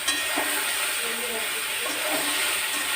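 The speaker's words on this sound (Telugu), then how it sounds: "చూడండి, ఇప్పుడు ఇంకా చక్కగా వేగుతున్నాయన్నమాట." Okra cooks in a pan with a spoonful of oil, giving a steady, broad sizzling hiss that holds at a constant level with small crackles throughout.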